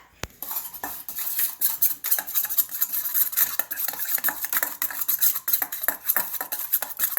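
Poké bowl ingredients with sesame oil mixed in a bowl with utensils, giving rapid, steady clinking and scraping of metal against the dish from near the start, close and fairly loud, with no talking.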